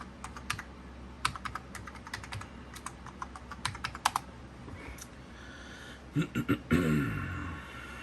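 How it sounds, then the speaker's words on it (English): Someone types slowly and unevenly on a Macintosh Performa 6300CD keyboard, sharp close key clicks in short uneven runs. A louder burst of clatter and thumps follows near the end, over a steady background hum. "Hard to type with one hand."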